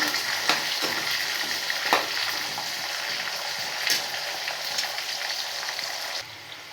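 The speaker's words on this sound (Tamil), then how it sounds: "வெங்காயமாக இப்படி சேர்த்துக்கிடலாம் சிக்கன் வறுவலுக்கு நல்லாயிருக்கும்" Whole onions sizzling in hot oil for a pepper chicken fry, a steady dense crackle with a few sharper stirring knocks, close and fairly loud, fading off at the very end.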